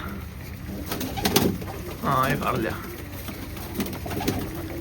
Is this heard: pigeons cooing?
yes